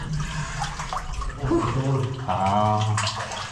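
Someone wades through chest-deep water in an abandoned mine, giving a close, continuous sloshing and splashing that grows fuller midway, with no talking.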